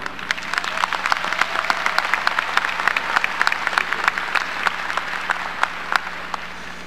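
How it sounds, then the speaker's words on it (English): Steady, crisp applause from a graduation audience of the class of 2018 greets the morning's speaker, an even wash of many hands clapping throughout with no talking over it. "Please give a round of applause for our speaker this morning"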